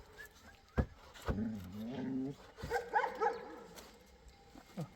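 A puppy gives a few short barks and whining yelps, fairly close, with sharp thumps between them and a quiet outdoor village background.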